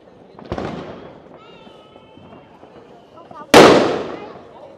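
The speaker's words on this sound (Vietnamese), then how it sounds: "Cả làng đốt pháo." Fireworks set off across a whole village for the Lunar New Year in central Vietnam: two sharp explosive bursts, one near the start and a louder one later, each trailing off into crackling, with a person talking in between.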